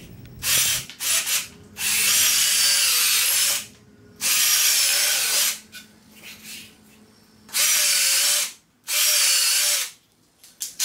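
A power drill drives 2.5 inch decking screws into 2x4 lumber in several loud whirring bursts, each lasting one to two seconds, separated by short pauses with a faint ratcheting sound between them.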